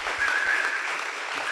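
An audience applauds a pianist at a live event, a steady dense clapping that fills the room. A faint whistle sounds above it.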